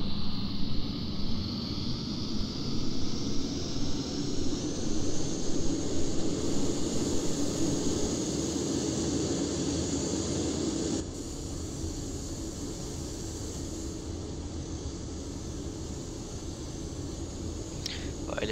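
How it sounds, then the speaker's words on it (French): Airliner jet engines spooling up in X-Plane 11, a steady, loud roar with a rising whine and broad rushing hiss that drops slightly in level partway through and continues evenly. "Les réacteurs s'allument."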